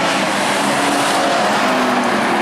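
Race cars roar continuously around the dirt oval at Perris Auto Speedway in a factory stock main event, a loud, dense wall of engine noise with no break.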